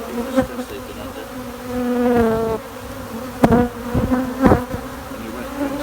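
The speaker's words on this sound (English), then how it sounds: "It's surprising how angry these bees can be." Angry bees during a bee rescue produce sharp, pitched buzzing close to the listener, with single insects darting past in sudden loud swells over a continuous background hum.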